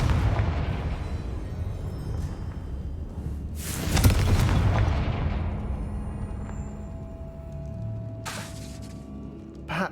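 A Confringo blasting spell in Hogwarts Legacy bursts with a loud sharp crack midway, over a low rumbling game ambience, and a second brighter shattering burst comes near the end.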